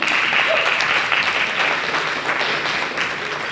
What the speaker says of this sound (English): good, you can clap.